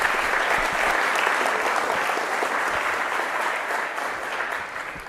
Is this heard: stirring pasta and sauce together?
no